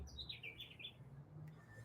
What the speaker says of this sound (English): I believe we are currently hearing kiskadees and caciques